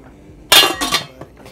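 A metal lid is set onto a cooking pot on a stove with a sharp clink followed by a brief rattle, loud and close, then quiet.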